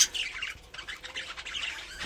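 Caged pet birds squawk and scuffle while fighting, a rapid run of harsh, shrill, overlapping calls close by, with no talking.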